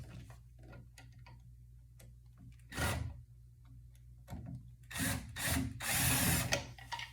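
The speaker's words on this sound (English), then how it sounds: "Much better with a drill." Light ticking and tapping, then a few short bursts of a power drill whirring close by while servicing an elliptical machine's drive belt, the last burst longest.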